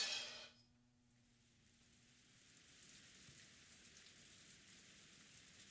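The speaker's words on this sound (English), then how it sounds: "In the Golden Land, the endless rain continued to fall." Steady, soft rainfall hisses continuously in the Golden Land of a video game, a faint even patter following a brief brighter chime at the start.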